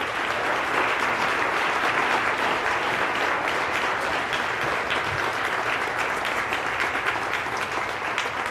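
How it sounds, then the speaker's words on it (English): Sustained applause for 2018 and 2019 retirees at a city schools employee recognition ceremony, a broad, even wash of many hands clapping at steady volume with no talk. "Let's have a big round of applause for them."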